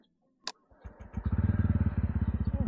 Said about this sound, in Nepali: वान ट्यापमा स्टार्ट हुन्छ कि यो बाइक